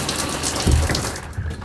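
Water sprays steadily from an Oxygenics RV shower head in an Airstream bathroom, a continuous broadband hiss with a brief thicker gush partway through.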